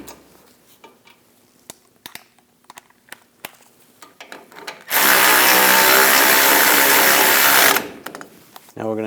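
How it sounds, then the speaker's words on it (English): A power tool tightening the rear brake caliper bracket bolts on a 2015-2022 Chevrolet Colorado, a loud continuous whir lasting about three seconds after scattered clicks and clanks of parts being handled. "Tighten these down."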